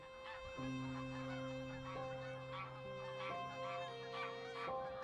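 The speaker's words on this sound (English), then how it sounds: "Aye, geese are canny birds." Several greylag geese honk and call back and forth in overlapping, nasal calls, fairly close and continuous with no talking.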